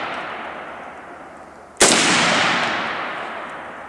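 A single sharp, loud AK-47 rifle shot cracks outdoors at close range, followed by a long, slowly fading echo.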